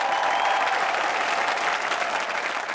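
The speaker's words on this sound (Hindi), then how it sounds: "जोरदार तालियों से स्वागत किया जाए।" Sustained, loud applause from a large audience welcoming the poet Gopal Das Neeraj, honored with the Padma Bhushan, at a Hindi poetry show; dense, steady clapping that fades slightly toward the end, with no speech over it.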